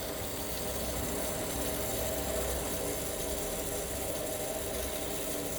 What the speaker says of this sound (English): we'll now turn our water back on. You'll hear it get pumped through.